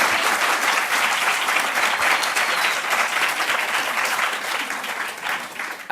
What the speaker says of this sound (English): we have to give a round of applause to Hope Bohannic, who just introduced me.